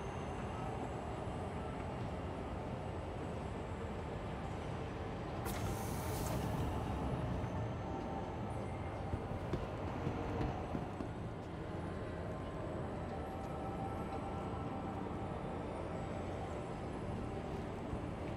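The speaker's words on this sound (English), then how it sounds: "Tram now approaching." A tram pulls into a station in Star Citizen with a long, steady rolling rumble and a brief brighter screech partway through. A faint voice sounds in the background.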